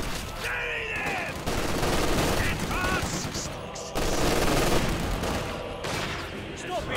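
Small arms gunfire rattles in the World War II strategy game Company of Heroes 2, with dense overlapping rifle and machine gun bursts filling the whole stretch at close range and loud. Faint shouted voices come through the firing.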